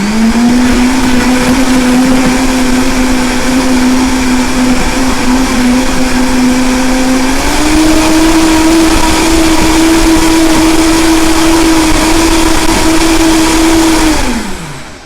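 A blender whirs loudly and steadily while blending a frozen greens smoothie in a home kitchen. The motor's pitch steps up about halfway through, holds for several seconds, then winds down at the end, with no talk over it.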